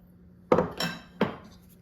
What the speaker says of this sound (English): use a slotted spoon, and just mix the sausage in with the mixture here